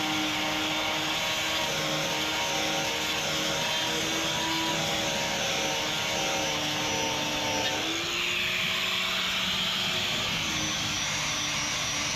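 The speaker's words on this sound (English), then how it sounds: "Then I clean everything up with an angle grinder" An angle grinder cleans up a vintage steel boat's bow deck after the teak has been removed, giving a loud, continuous high whine that holds steady, then shifts pitch slightly partway through as the load changes.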